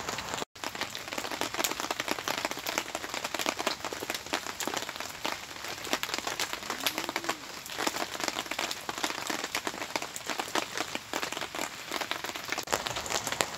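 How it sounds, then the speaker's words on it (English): Continuous patter of rain falling on a woodland winter shelter, a dense, steady hiss of drops hitting the cover, close and even throughout. "Well, rain's just not stopping."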